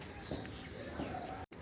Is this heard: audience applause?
no